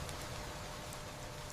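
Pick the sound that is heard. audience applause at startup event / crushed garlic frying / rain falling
rain falling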